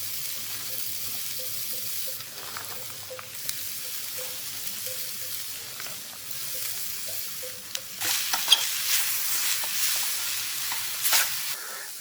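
Onions and peppers sizzle in a pan at a winter cave campsite in Ohio, a steady close frying hiss with occasional stirring clinks and scrapes and no talking.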